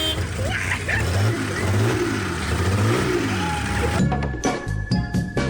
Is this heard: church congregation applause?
no